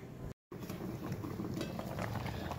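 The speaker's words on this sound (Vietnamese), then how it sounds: "Đây, nồi ngô sôi như thế này nhé, các bạn sẽ nhỏ lửa cho mình nhé." A pot of corn cobs boils on the stove, a steady close bubbling and rolling simmer with small pops throughout, briefly cut by a moment of silence near the start.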